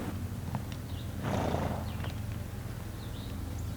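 Horses on a horse farm in Milton, North Carolina, beside a creek, heard faintly outdoors with a soft snort or whinny and a few light hoof sounds over a steady low background.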